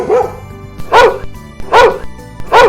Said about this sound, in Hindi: अचानक जोर से भौंकने लगता है